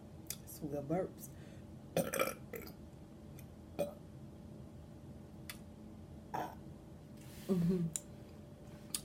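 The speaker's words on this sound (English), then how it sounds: "Some good burps." Several separate wet burps from a person eating steak and cheese sliders with steak sauce, loud and close, spaced irregularly with quiet pauses and small mouth noises between them.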